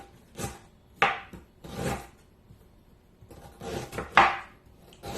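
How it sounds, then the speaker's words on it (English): Peeled ginger root sliced with a knife on a cutting board, giving several close, crisp chopping strokes in an uneven rhythm, each a short scraping crunch. "You cut it in small slices."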